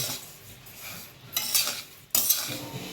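Dals roast dry in a kadhai with a metal spoon, giving soft scraping strokes and a couple of sharper, louder clattering stirs near the end, close and alone.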